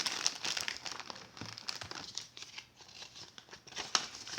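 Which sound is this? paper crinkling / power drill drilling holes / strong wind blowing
paper crinkling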